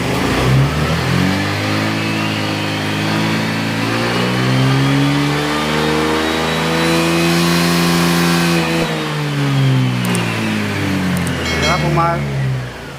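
A Honda Click 125 scooter engine revs hard on its center stand, its pitch sweeping up to a sustained high whine and then falling back, loud and close, with brief mechanical noises near the end.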